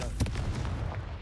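Confringo fire spell blasting in the Hogwarts Legacy game, one sharp booming burst near the start followed by a rumbling crackling tail, with a voice briefly audible.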